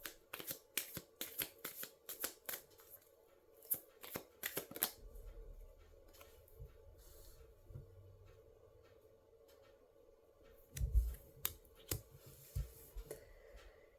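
Tarot cards are shuffled and drawn by hand, with bursts of crisp riffling and sharp flicks of card stock in quick clusters, separated by quieter pauses and soft handling sounds, close and fairly faint.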